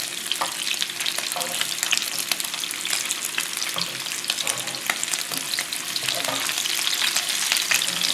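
Vegetarian bacon, low in fat, fries in a pan with a continuous, busy sizzle and dense crackling spatter, moderately loud and steady throughout with no talk.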